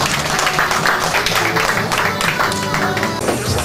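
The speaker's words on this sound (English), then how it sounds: "let's clap our hands for the groom." Wedding guests clap for the groom during the garter removal at a wedding reception, a continuous burst of crowd applause with some background voices.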